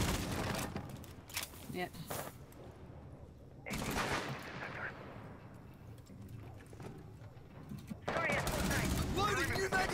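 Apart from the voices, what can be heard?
gunfire in the video game Rainbow Six Siege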